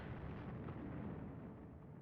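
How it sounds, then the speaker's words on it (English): A low, muffled rumbling blast from the game Evil Genius, sustained and dull, with no talking. "I hear an explosion."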